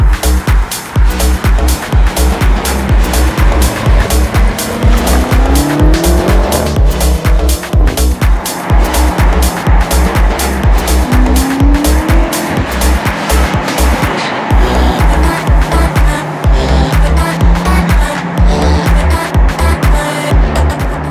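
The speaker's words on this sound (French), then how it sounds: "BMW X6M Compétition Launch Control." A 2021 BMW X6M Competition with a 617-horsepower engine launches on launch control. A loud, continuous engine roar climbs through several gears, with rising pitch sweeps and short breaks between shifts, close to the microphone and with no voices.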